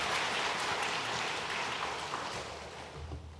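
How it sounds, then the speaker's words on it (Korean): A church congregation claps to welcome a visiting family member during a Korean Sunday service: steady, dense applause filling the room, fading slightly toward the end, with no voices. "잠깐 자리에 일어나 인사하실 때 박수로 환영하도록 하겠습니다."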